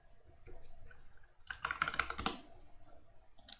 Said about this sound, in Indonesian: Caranya adalah tekan Ctrl plus C.